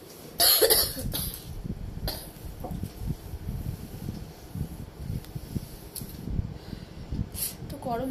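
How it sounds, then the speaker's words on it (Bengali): One person suffers a severe coughing fit: a loud harsh burst near the start, then repeated raspy coughs and throat clearing. The sounds are close and come in uneven bursts over a quiet room. "প্রচন্ড কাশি হচ্ছে"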